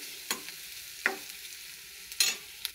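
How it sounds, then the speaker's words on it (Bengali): Onions fry in a pan on a kitchen stove under a soft steady sizzle, broken by a few sharp scraping stirs of a spatula. "পেঁয়াজগুলোকে একটু ভালোভাবে ভেজে নিব যাতে কাঁচা গন্ধটা চলে যায়"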